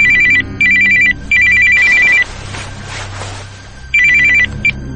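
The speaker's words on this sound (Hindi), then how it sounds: "रात को 3 बजे फोन की बेल बजी" A telephone rings at night, loud and close, in repeated electronic bursts. Between the rings there is a stretch of softer noise, and the ringing returns near the end with no talking over it.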